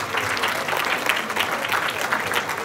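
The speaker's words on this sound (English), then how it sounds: "let's give them a round of applause" A crowd at a reception applauding steadily, dense clapping that holds at an even level throughout without letting up.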